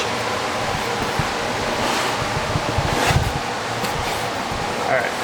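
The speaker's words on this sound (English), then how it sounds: "that fan turned on. You can probably hear that. Pretty loud in here in the shop." A loud fan runs inside a shop, a constant broadband rushing roar with small fluctuations and a few light knocks. Someone talks faintly under it.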